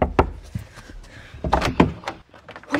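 A door is shut indoors with a few solid thunks and knocks, and a louder cluster of impacts follows near the end.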